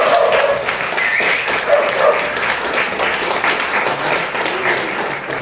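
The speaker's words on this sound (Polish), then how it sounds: "Brawa za tym wielkim fundem, brawa dla organizatorów" Clapping from an audience at a spiritual lecture gathering, applauding the organizers in a steady close patter of many hands, with brief voices and calls mixed in.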